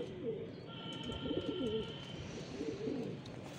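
A pigeon coos softly in repeated low, rolling phrases, faint and close, over a quiet outdoor background with a few sparse chirps.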